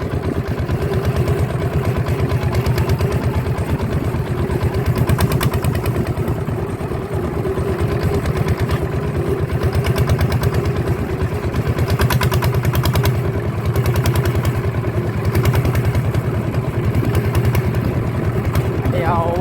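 A farm vehicle with a Kubota ET95 engine upsized to 155 chugs along steadily, a rapid, clattering single-cylinder beat near and constant, with voices talking over it.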